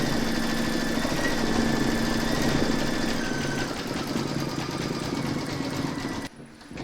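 An embroidery machine stitches a satin stitch detail in dark grey thread around the mouth of a shark bookmark. It makes a steady, close mechanical buzz with rapid rhythmic ticking that cuts off abruptly just before the end.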